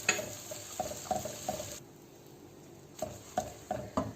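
Ginger garlic paste and chopped green chillies fry and get stirred in a pan for chana masala, giving soft sizzling with intermittent scraping clicks and a brief lull in the middle. No one speaks.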